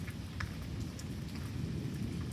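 Steady rain falls during a thunderstorm with a low, continuous rumble of thunder underneath and a few sharper drip ticks, fairly faint and distant, with no voices.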